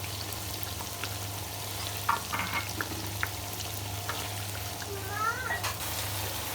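Ginger-garlic paste and blended masala fry in a kadhai with a soft, steady sizzle. Occasional clinks and scrapes of stirring sound over it, all fairly faint.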